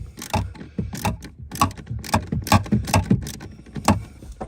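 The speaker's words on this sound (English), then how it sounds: "I've got a socket on an extension." A socket ratchet on an extension works a 10mm bolt at the throttle pedal of a Chevy Sonic or Cruze, giving close, repeated clicking bursts in an uneven rhythm with no talk.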